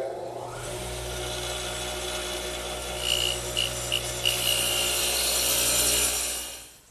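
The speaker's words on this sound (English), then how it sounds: "to cut the tenons, I'm going to use my radial arm with the dado head cutter as before" A radial arm saw fitted with a dado head cutter spins up with a steady whine and chews through wood to cut tenons, the cutting noise swelling midway and then winding down at the end.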